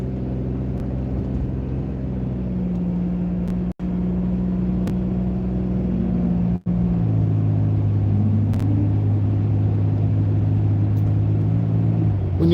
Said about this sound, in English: we go right into the first lane and gently accelerate through the turn